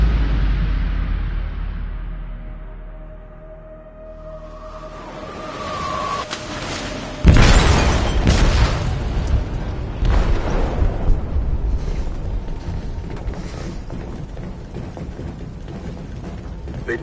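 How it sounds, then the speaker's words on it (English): An explosive detonates in a ship's hold in Detroit: Become Human, a sudden loud deep boom after a low mechanical rumble, followed by sustained roaring, clanking and rumbling debris. "They detonated an explosive in the hold."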